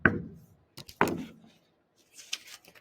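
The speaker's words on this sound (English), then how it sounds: "There's a possum come a-knockin at the door." Knocking on a door in a children's song about a possum, two separate bursts of knocks about a second apart, fairly close and clear, followed by faint scattered sounds.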